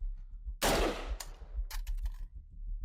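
A single loud rifle shot fired at an outdoor target on a windy range, sharp crack followed by a decaying echo and a few fainter clicks, with no talk.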